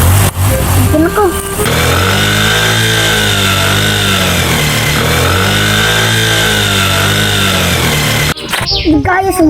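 A motorcycle engine hums loudly and steadily close by, its pitch rising and falling in slow swells, while people talk over it; the engine cuts off abruptly near the end.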